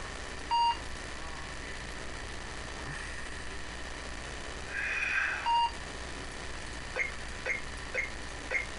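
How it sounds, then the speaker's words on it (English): A timer in the PC game Codename: Iceman goes off with short, faint electronic beeps: a couple of isolated tones early on, then a quick run of four evenly spaced beeps near the end over a low steady hum. "Oh, the timer's going off."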